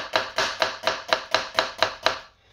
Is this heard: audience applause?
no